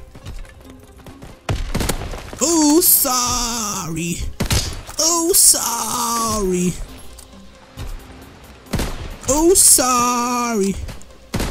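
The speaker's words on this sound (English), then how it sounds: "The whole team shooting at me." Gunfire in Call of Duty WW2, with several sharp shots and thuds scattered through the clip, mixed with game sounds and heavily overlapped by a player talking.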